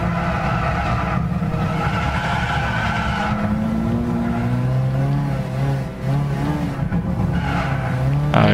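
A race car drifting in Gran Turismo 6, its engine note sliding and revving loud and close while the tires squeal in long sustained skids that rise and fall through the whole run.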